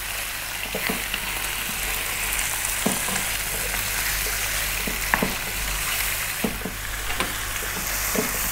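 Lamb meat frying in a pan over slightly above medium heat for a curry, a steady loud sizzle with occasional scraping stir strokes, no voices.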